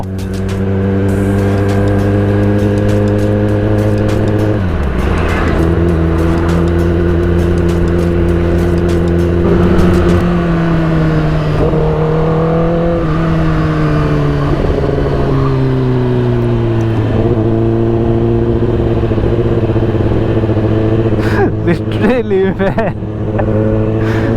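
A Kawasaki ZX10R superbike fitted with an SC Project exhaust roars loudly and continuously, its engine note rising and falling as it revs and passes close by, with a brief crackling burst near the end.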